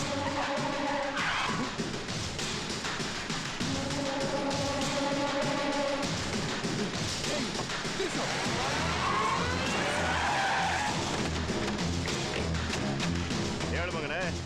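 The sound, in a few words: vehicle skidding to a stop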